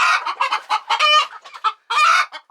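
Chickens and chicks making a racket with rapid, loud clucking and squawking bursts, close by and continuous with short pauses, with no talking.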